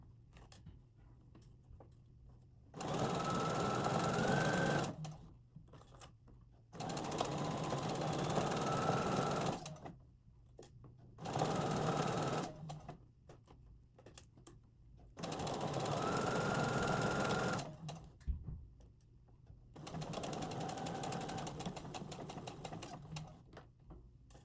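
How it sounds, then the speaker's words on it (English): A sewing machine stitches a serpentine stitch on a T-shirt dress in five separate bursts of a few seconds each, a close, fast, rattling whir with short quiet pauses between runs. "Here I'm going back to my serpentine stitch, and I want to make sure this is nice and even"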